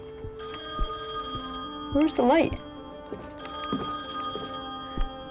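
A telephone rings in a house in the horror video game Song of Horror, a faint repeating bell-like ring under a voice, with footsteps and a brief warbling tone in between.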